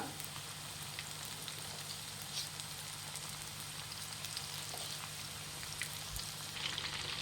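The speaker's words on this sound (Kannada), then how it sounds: "ಒಂದು ಸ್ವಲ್ಪ ಉರಿ ಮೀಡಿಯಂ ಉರಿಲಿ ಇಟ್ಬಿಟ್ಟು ಕರ್ಕೊಬೇಕು" Pieces of chilli chicken frying in a pan over a medium flame give off a steady, soft sizzle that crackles lightly throughout, with no voices present.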